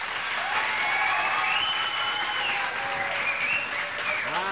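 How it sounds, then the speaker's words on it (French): A studio audience on a 1978 Quebec variety show applauds contestant Liette Mossiri with steady sustained clapping and a few cheers, while music with wavering melodic tones plays underneath. "je vous demanderai de bien vouloir applaudir pour Liette Mossiri."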